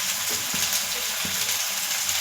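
Crushed garlic hits a frying pan with taro stolons, setting off a steady, bright hissing sizzle close by, with a few soft knocks from stirring.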